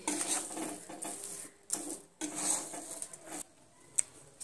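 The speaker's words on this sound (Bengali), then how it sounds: "এইভাবে নেড়ে চেড়ে নিতে হবে সুজি আর চিনির সঙ্গে।" Semolina and sugar are stirred in a pan with a metal spoon, making repeated scraping and clinking strokes broken by short pauses, close and moderately loud.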